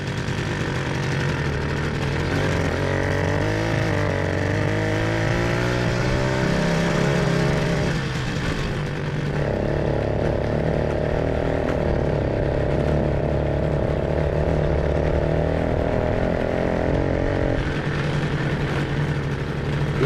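A restored 1967 Komar moped engine runs steadily and loud throughout, its buzzing two-stroke drone shifting pitch as it revs up and settles, with a brief dip midway before picking back up.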